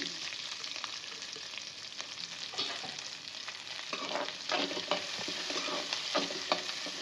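Small onions fry in oil with popped mustard seeds, green chilli and curry leaves, making a continuous close sizzle with frequent spoon-stirring scrapes and light crackles, growing slightly busier toward the end, with no talking.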